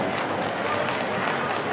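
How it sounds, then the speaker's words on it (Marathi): An audience applauds at a world Buddhist Dhamma conference at Bhim Tekdi in Sambhaji Nagar. The clapping is dense and continuous, with a steady, even level throughout. "एकदा जोरदार जोरदार टाळ्या सर्वांकरता होऊन जाऊ द्या."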